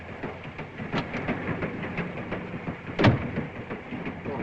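A European passenger train runs on rails, a steady close rumble with rhythmic clicks and a sharper knock near the end, heard alone without voices.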